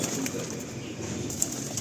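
Male Malwai pigeons cooing in a loft, a soft steady murmur of low calls with faint flutters and no talk, one brief sharper sound near the end.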